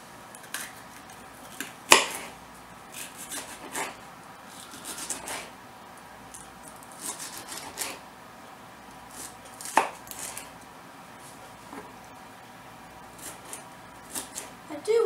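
A knife chopping an onion into small pieces on a board, a series of quiet, irregular crisp chops, some sharper than others, spread across the stretch with no one speaking.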